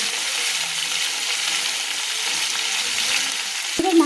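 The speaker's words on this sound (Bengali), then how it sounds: "একসঙ্গে আমি ভেজে নিচ্ছি, সব মাছের মাথার টুকরোগুলো একসঙ্গে ভেজে নিচ্ছি।" Fish head pieces fry in oil in a pan over a medium gas flame, giving a close, steady, even sizzle throughout, with a brief clink just before the end.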